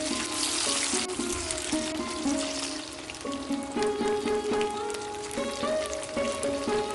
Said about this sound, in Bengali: এবার এই মাছের পিসগুলো তেলের মধ্যে এক এক করে ছেড়ে দিয়ে আমি কড়া করে ভেজে নিচ্ছি